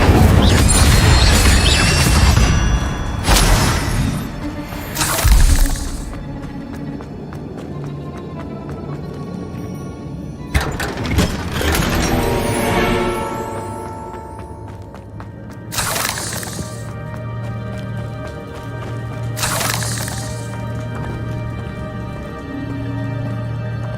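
Incendio fire spells are cast in Hogwarts Legacy as loud whooshing bursts that crash and boom several times. Crackling and shattering effects sound over a layered game soundtrack.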